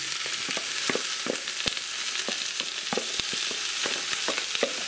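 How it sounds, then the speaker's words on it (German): Vegetables from a marinade for sauerbraten fry in a Dutch oven, giving a continuous close sizzle with scattered crackles and occasional stirring scrapes. "So, jetzt werde ich das Gemüse anbraten."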